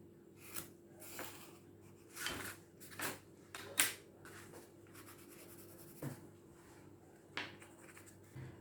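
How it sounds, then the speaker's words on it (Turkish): Pencil or pen drawing a straight line across paper, heard as soft scratchy strokes in several short bursts with pauses between them, close and fairly quiet with no talking. "Sağ kenarla üstteki çizginin birleşeceği şekilde bir çizgi oluşturuyorum."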